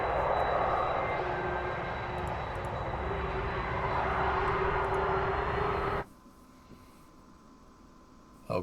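Virgin Orbit's Cosmic Girl airliner taxis with a steady, loud roar of jet engines and a faint high whine, continuous for about six seconds before dropping abruptly to a much quieter distant hum.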